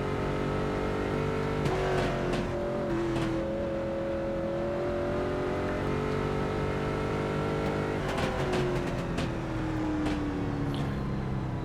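Late model race cars roaring around single-lane Langley Speedway in iRacing, a steady loud engine drone with pitch sweeping up and down as cars accelerate and pass, continuous throughout.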